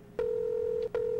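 Phone number tones being dialed in the video game Rewind or Die: a long steady dial tone, a short break, then another tone begins, close and clean with no voices.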